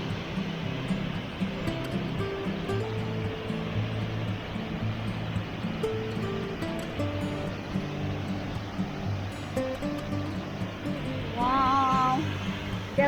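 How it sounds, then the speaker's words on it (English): Hepoköngäs waterfall in a Finnish forest gives a loud, steady rushing roar throughout, with a low tonal hum beneath it and a brief voice rising near the end. "this is now the view of this Hepoköngäs waterfall"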